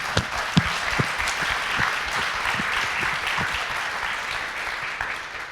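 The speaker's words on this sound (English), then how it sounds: "Let's give a round of applause for raising that money" Audience applause at a leadership anniversary celebration, a steady wash of many hands clapping with a few sharper claps standing out near the start, continuous and moderately loud throughout.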